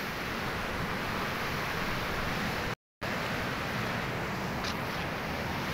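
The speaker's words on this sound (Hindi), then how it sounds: "ये पानी निकल रहा है यहाँ से" Glacial meltwater rushing out at the Gaumukh glacier source in the Himalayas, a steady, loud broadband roar of flowing water close by, with one brief cut near the middle.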